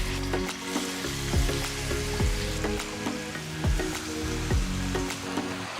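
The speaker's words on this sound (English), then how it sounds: "Now gently drop in all the marinated chicken pieces." Marinated chicken pieces sizzle in oil in a white kadai, a steady loud frying crackle broken by repeated stirring scrapes and clinks.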